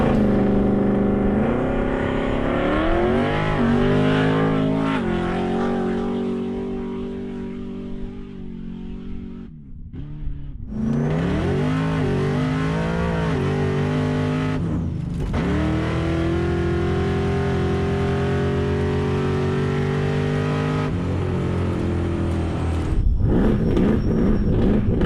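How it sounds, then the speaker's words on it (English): A supercharged LS1 V8 rear-wheel-drive drag car with a Harrop HTV 2300 supercharger and 600 horsepower roars loudly and revs up repeatedly at a drag race, climbing in pitch through hard acceleration runs, with a brief drop between pulls. "The LS1 sports a Harrop HTV 2300 supercharger and makes 600 rear-wheel horsepower"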